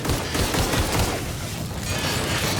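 Dense, loud bursts of gunfire crackle continuously in a video game firefight, with booming blasts that fit shotgun fire packed together without pause.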